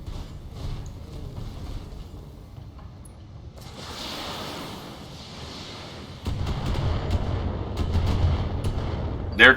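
Short-range missiles fire and explode in BattleTech mech combat, giving a rolling series of muffled booms and rumbles that grows heavier partway through and ends on a sharp, louder hit.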